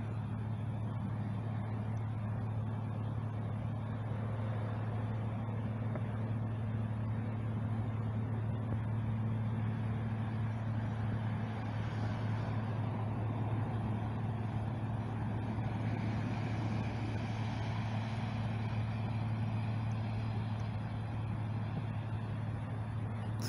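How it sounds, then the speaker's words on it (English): A car or pickup truck speeds past on a road near Canyonville, heard as a steady distant rumble of traffic with a low engine drone and tire hiss that swells gently and recedes over a long stretch. "that's a car, or pickup truck speeding."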